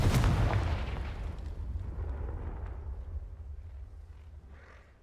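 A Confringo explosive spell is cast in the Hogwarts Legacy video game, setting off a single loud booming blast at the start that rumbles and fades over several seconds.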